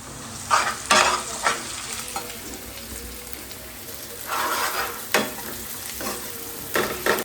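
Ginger garlic paste sizzles in hot oil in a pan while being stirred, a steady close frying hiss broken by a few scraping stir strokes, with no talking.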